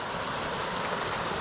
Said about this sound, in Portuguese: o som da cachoeira mudou, ó.